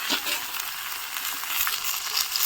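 Cumin seeds sizzle in hot oil as a tempering for papaya curry, a steady, fairly faint hiss with crackling pops, close by and without talk.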